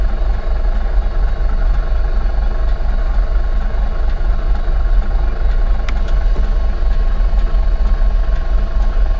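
An abandoned Piper Aztec twin-turbo airplane, sitting unused for seven years, runs its engine with a loud, steady, low-pitched roar that is close and unbroken throughout.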